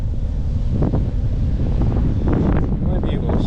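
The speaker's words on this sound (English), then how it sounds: "the wind is all over the place today" Strong gusting wind roars across the microphone of a bicycle on an autumn tour, a loud continuous rumble that surges and buffets, with faint talk beneath it.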